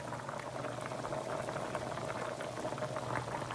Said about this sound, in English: So the okra is boiling.